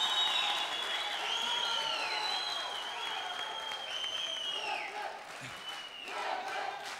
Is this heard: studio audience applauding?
yes